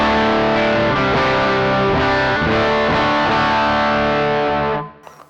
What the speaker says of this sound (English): Let's turn the reverb on and see what we get.